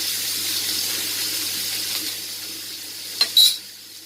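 Dried anchovies sautéing in a pan give a steady, soft sizzle and hiss throughout, with a couple of brief louder clatters near the end, likely a spatula stirring.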